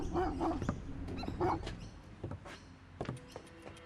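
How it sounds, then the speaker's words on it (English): Several dogs bark and yip near a suburban house, short overlapping barks in irregular bursts with a whimper in between, fairly close and loud, no talk over them. "deterred by watchful neighbours and some barking dogs"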